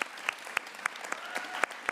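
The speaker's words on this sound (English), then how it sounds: "May we have a big round of applause, everyone, for Mara Midjer" A small audience claps sparsely for Mara Midjer at a feminist climate gathering, a handful of distinct hand claps spread unevenly over a soft background murmur, moderately close.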